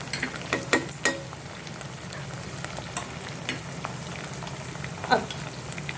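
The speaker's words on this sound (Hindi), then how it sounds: "अब हम डाल रहे हैं कश्मीरी लाल मिर्ची का पेस्ट, हाफ़ टी स्पून के आसपास।" Vegetables frying in a pan while Kashmiri red chili paste is stirred in for paneer chilli, a soft steady sizzle with scattered scraping and clinking stirring strokes, close and fairly quiet.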